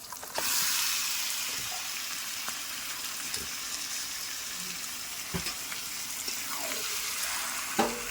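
Spice paste of ground masala sizzling in hot oil for a chicken curry, a steady frying hiss with occasional scraping stirs and clinks, close and continuous with no talk.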